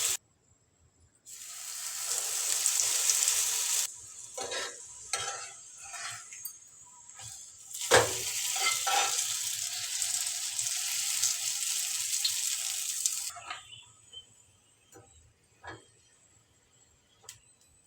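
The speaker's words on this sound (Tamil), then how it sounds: "ரெடி பண்ணி வச்சுருக்க எல்லாத்தையுமே அதுமாரி போட்டு பொரிச்சு எடுத்துக்கலாம்." Wheat-flour egg puffs fry in a pan of hot oil with a loud, steady sizzle that rises and falls over several seconds, including a sudden burst partway through, then fades to quiet crackling.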